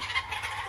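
Turkeys gobbling in a short continuous burst, moderately loud and close, with no talking over it.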